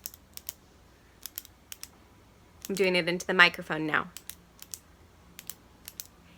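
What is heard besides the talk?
clicking a pen into the microphone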